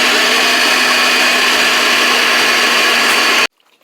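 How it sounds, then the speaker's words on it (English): An electric blender roars loudly and steadily while blending seasoning with white vinegar for Jamaican curry shrimp, a constant high whirring drone that cuts off abruptly near the end, leaving near silence. "Then we're going to blend this."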